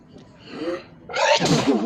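A single loud sneeze bursts out close by, preceded by a short inhaling build-up.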